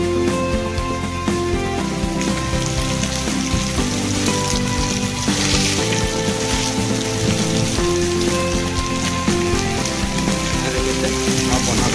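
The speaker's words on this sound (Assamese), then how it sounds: "আৰু বন্ধাকবি এড কৰি পেলাই মই ইয়াক সুন্দৰভাৱে ভাজিবলৈ চেষ্টা কৰিম।" Cabbage and potatoes frying in a pan at a home New Year's Eve party kitchen, giving a steady rain-like crackling sizzle that runs throughout under background music.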